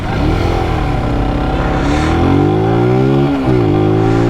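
A 125 cc motorcycle engine revs up and down close by, loud and buzzy, with pitch rising in steady sweeps and a short dip before climbing again.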